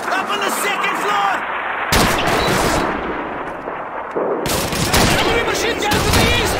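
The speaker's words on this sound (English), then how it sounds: "Enemy machine gun to the east!" Rapid bursts of machine gun fire and scattered rifle shots in a Call of Duty 2 battle around a station house, loud and dense throughout, with voices shouting under the shooting.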